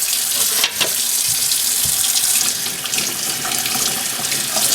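Cold tap water pours steadily over oxidized sterling silver at a sink, a continuous splashing rush with a brief louder spatter near the start and no talking.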